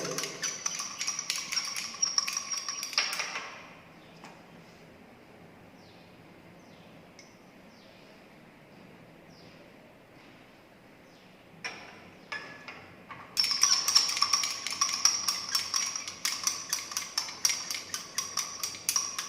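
A glass rod clinks steadily against a glass vessel while liquor ammonia is added to a copper sulphate solution, giving quick, light ticking in bursts, fading to near silence midway before resuming.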